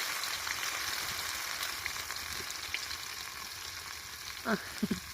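Cumin seeds and garlic sizzle and crackle in hot oil over an outdoor wood-fired clay stove on a farm, a steady close frying hiss with a few sharper pops near the end.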